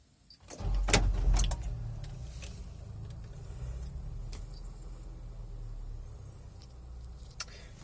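A Nissan Grand Livina 1.5 engine cranks with a few sharp clicks and a loud starter burst, then settles into a steady low idle hum, close and alone.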